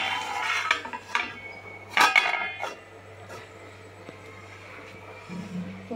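A lid set onto a cooking pot: a few close metallic clinks and clatters, one sharp knock, then quieter rattles over a low steady hum, with no talking.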